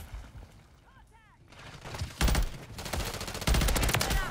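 BP50 rifle firing in Modern Warfare 3, rapid automatic bursts cracking loudly in two clusters under game noise, with a voice talking in between.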